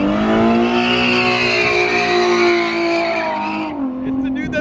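A Subaru doing a burnout makes a sustained, loud, near squeal of tires with a high-revving engine, holding steady before dropping off near the end.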